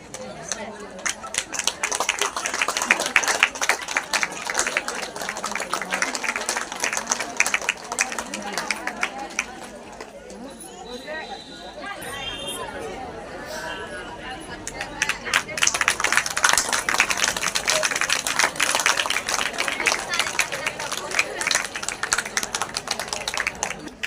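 Audience clapping at a women's day celebration held in a mandal parishad office: bursts of applause from a crowd fill the opening and closing stretches, with a quieter, chatter-filled lull in the middle.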